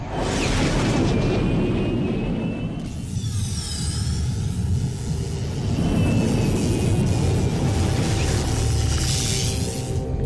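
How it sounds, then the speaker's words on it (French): A loud, roaring blast rumbles continuously, with a deep booming body and hissing debris, then swells again toward the end. "Et éloignons-nous de l'explosion"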